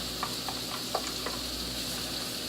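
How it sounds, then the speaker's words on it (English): Onions sauté in olive oil in a pan alongside pork, giving a steady close sizzle with a few faint stirring clicks and no talking. "Put a little more olive oil. Put the onions in and let them saute for a couple minutes."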